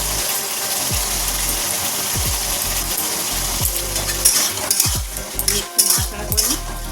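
Ridge gourd frying in a pan with turmeric and salt is stirred with a metal spatula, a loud continuous sizzle broken by repeated scraping and clinking strokes against the pan, close up, no talking.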